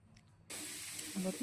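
Onions dropped into hot oil in a home kitchen set off a sudden steady hiss and sizzle that starts abruptly partway through and continues at an even level, with a faint voice just before.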